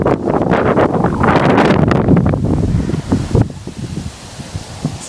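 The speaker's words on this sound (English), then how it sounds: "This wind is kicking my butt out here today." Strong gusts of wind batter the microphone on a hiking trail on the Blue Wall Passage of the Palmetto Trail near Tryon, North Carolina, blowing loud and continuous, then easing slightly toward the end.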